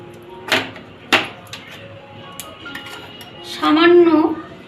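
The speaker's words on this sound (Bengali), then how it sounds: "মিশ্রণটাকে মিশিয়ে নেব পাটিসাপটা ব্যাটারটা যেটা তৈরি করছি আমি" Patishapta batter being mixed in a bowl: two sharp clinks of a utensil against the bowl, soft stirring, then a voice speaking near the end.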